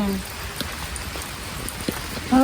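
Light rain patters softly and unevenly, with brief voices at the start and end.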